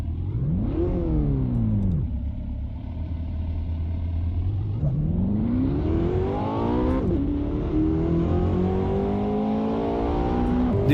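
Ferrari engine in the Assetto Corsa racing game, loud exhaust revving hard through several rising pulls, with clear gear changes between them and a brief lift and dip in the middle.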